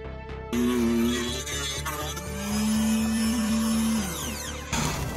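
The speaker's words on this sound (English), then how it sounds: "So I guess it's called a router because it routes tracks like that." A handheld CNC router cuts tracks in wood with a loud, close, continuous motor whine whose pitch drifts up and down as it moves through the material, then it cuts out near the end.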